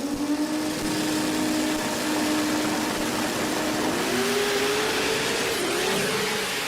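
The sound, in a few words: 4-cylinder twin-turbo Mitsubishi Eclipse drag car accelerating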